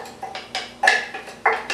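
Sliced vegetables and sliced garlic tumble into a pot for ropa vieja, making a run of soft clattering knocks and scrapes, several separate bursts close by in a quiet kitchen.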